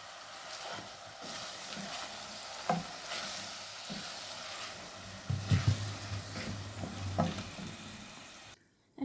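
Tomato and capsicum fry in a pan with onion and salt, sizzling steadily up close while a spoon stirs and scrapes in irregular bursts.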